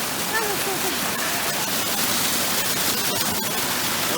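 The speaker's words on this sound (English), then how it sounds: "Glacier water." Cold glacier water rushing steadily in a dense, unbroken hiss, close and fairly loud, with some faint voice nearby.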